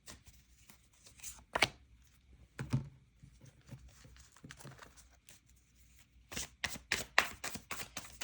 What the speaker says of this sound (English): Like maybe one more shuffle.